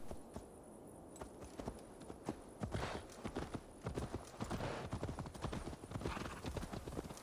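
Steady clip-clop of horse hooves trotting at a brisk, even rhythm, close and continuous over a faint ambient bed, from the video game Assassin's Creed Valhalla.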